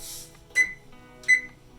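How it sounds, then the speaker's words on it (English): Kitchen timer being set while cold yerba mate steeps in a French press, two short bright electronic beeps spaced under a second apart, close and fairly quiet against a soft background. "And then I'm gonna set a timer."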